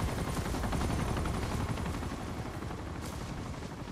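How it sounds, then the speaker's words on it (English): A helicopter in the Uncharted 2 video game, over a Nepal street scene, makes a dense, loud whirring roar with rapid bursts that sound like gunfire. "Well, there goes that chopper."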